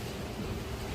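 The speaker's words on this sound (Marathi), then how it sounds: "बापरे पाऊस लय जोरात" Heavy rain pours down in a dense, steady roar of hissing noise, loud and unbroken for about a second.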